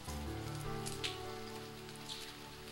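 Rain falls steadily in a visual novel game scene, a soft continuous patter of drops on a surface, quiet and alone with no voices.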